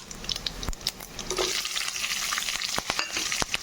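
Onion and green chili pieces fry in hot oil with mustard seeds for a chana dal and potato curry, giving a close, steady crackling sizzle with brief clicks of stirring and no speech.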